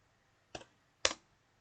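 Two crisp key presses on a computer keyboard, likely the Enter key, half a second apart, close and clear over a faint steady hum with no talk.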